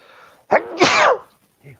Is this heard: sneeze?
yes